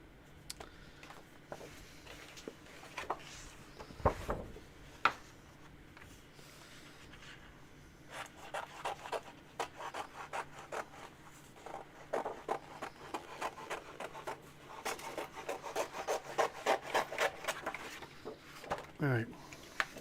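Scissors snip out paper pattern pieces for costume shoulder tubes in a series of short, sharp cuts spread through the stretch, close and fairly quiet, with a voice talking softly at times.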